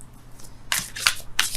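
Tarot cards shuffled by hand during a reading, a few crisp riffling bursts in quick succession, close and fairly loud with no talking over them.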